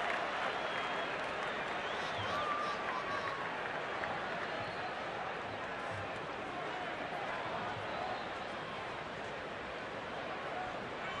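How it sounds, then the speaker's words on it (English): Ballpark crowd at a Florida Marlins versus Chicago Cubs baseball game in May 2009, cheering as a steady, distant roar that stays low and even throughout, with a voice faintly underneath. "Big cheer from the crowd."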